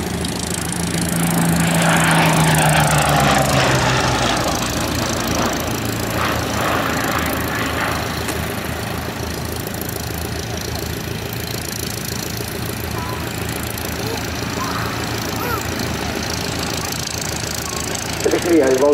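A Hawker Hurricane with a Rolls-Royce Merlin 20 engine runs steadily throughout, a loud continuous engine drone that swells near the start and then holds, with a voice talking over it.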